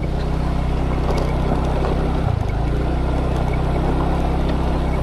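A Honda Vario scooter crosses a shallow river in Aceh during the dry season, its engine droning loud and steady as water splashes around it, with a brief surge midway.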